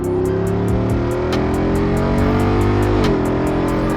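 A 2023 Jeep Wrangler Rubicon 392 V8 pulls hard on the freeway, its engine note climbing steadily through the revs with a quick shift near the end, loud and continuous with wind roar inside the cabin.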